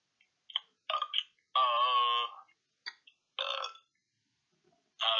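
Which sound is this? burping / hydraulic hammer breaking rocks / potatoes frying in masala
burping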